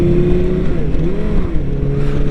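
A 2016 BMW K1600GT motorcycle's engine runs loud and close, a steady throaty exhaust drone with slight pitch wavers and small revs, no talking.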